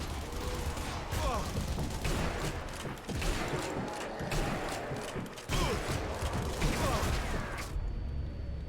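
An MG42 machine gun fires in a Zombie Army Trilogy game, with dense, rapid bursts of gunfire and mechanical clatter that run almost continuously and stop abruptly near the end.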